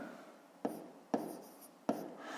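A pen writes on paper, three distinct tapping strokes followed by soft scratching, quiet and close with no talking.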